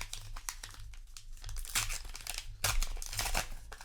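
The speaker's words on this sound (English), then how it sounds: "Let's open more packs, get something good." Foil booster packs of Flesh and Blood cards are ripped open close up, with sharp crinkling and tearing that comes in bursts and brief pauses and no talking over it.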